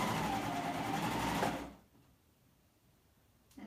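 A sewing machine runs steadily along a basting stitch on a swing dress for about a second and a half, then stops, leaving near silence before a brief clack at the end.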